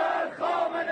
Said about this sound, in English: her gravesite, the crowd chanted, "Death to Khamenei."